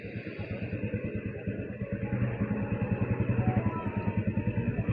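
Motorcycle being ridden on a town road: a steady, fast-pulsing engine thump close to the microphone that builds slightly in loudness, with a wind-rushed background and no talk.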